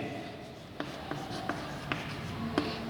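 Chalk or marker tapping and scraping on a board during a linear algebra lecture, a handful of short distinct strokes at a steady pace over a quiet room hum.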